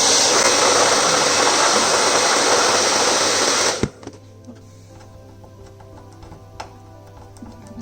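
A hair dryer blowing hot air on a car badge to loosen it, a loud steady whoosh that cuts off abruptly, leaving faint ticks and small handling sounds.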